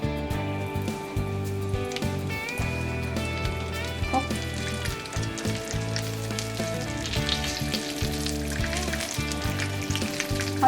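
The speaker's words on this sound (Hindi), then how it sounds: "और इसको हम क्रिस्पी होने तक अच्छे से फ्राई कर लेंगे इसमें, और साथ साथ में इसको हम पलटते रहेंगे।" Stuffed brinjals frying in hot oil in a pan give a steady, dense sizzle that runs throughout, with faint scraping as they are turned, under continuous background music.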